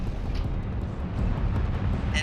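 Missile fireworks explosions in the video game Armored Core 6 boom as a sustained, rumbling low roar with a sharper burst near the end, loud and continuous.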